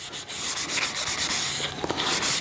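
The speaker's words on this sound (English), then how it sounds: "Come back again with the light sanding sponge." A light sanding sponge rubbed across a stained mid-century modern wooden table, giving a continuous close scratchy swishing in quick back-and-forth strokes with no voices.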